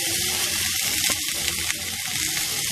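Tomato, ginger-garlic paste and coriander powder frying for a paneer and potato curry, a loud steady sizzle close up with faint stirring scrapes throughout.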